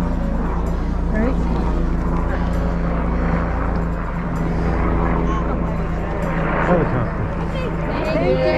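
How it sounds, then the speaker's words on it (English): A helicopter drones steadily overhead near Reykjavík, Iceland, its low, throbbing engine hum continuous and fairly loud throughout. "Helicopter."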